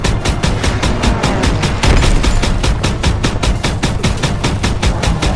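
Rapid gunfire in the World War II shooter Call of Duty WWII, a loud, relentless stream of evenly spaced shots like sustained machine-gun bursts with no pauses.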